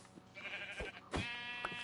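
Sheep in Minecraft bleat in short wavering calls, two or three overlapping at close range, with faint game sounds between them.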